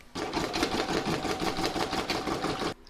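An embroidery machine stitches an in-the-hoop contactless bank card holder, running a steady, fast mechanical chatter of needle strokes for about two and a half seconds before stopping abruptly.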